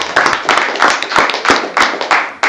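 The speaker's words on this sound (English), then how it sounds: "I really want to applaud you." Applause from an audience at a Lebanon, Tennessee chamber of commerce gathering: a steady run of sharp, fairly close hand claps that keeps up through the short span.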